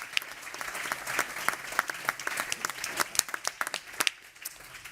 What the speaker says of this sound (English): please join me in giving them the hugest round of applause